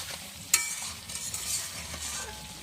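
Chicken meat stirred in a pan on the stove to cook off its water for a village-style chicken and potato curry, a soft, low sizzle with faint scraping stirs and one brief clink, close and quiet.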